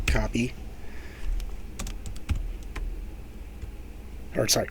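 Rapid bursts of keyboard typing click away up close, with scattered single key taps in between and a short spoken phrase at the end.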